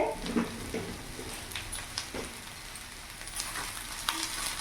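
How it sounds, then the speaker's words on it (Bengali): Cauliflower filling fries and is stirred in a pan, a steady close sizzle with scraping stir strokes across it and no talk. "অনেকক্ষণ ধরে আমি ভাজা ভাজা করে দিয়েছি দেখতে পাচ্ছ"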